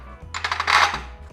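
Metal bolts clink and rattle as they are set onto a steel battery tray being fabricated for a 1952 Chevy 3100. A few quick, close, bright metallic taps sound over a low hum.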